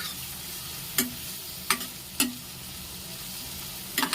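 Onions fry in a pan with a steady, close sizzle while a spoon stirs them, giving four or five sharp scraping taps spaced unevenly through the hiss.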